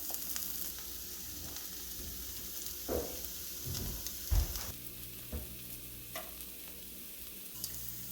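A dosa cooking in oil on a hot pan, a soft continuous sizzle near the microphone broken by a few light scraping and tapping knocks, quiet and without speech.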